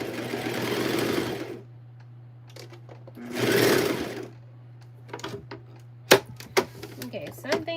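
A sewing machine runs in two bursts of rapid, steady mechanical stitching, with quieter clicks and handling noises between and after the runs, recorded up close.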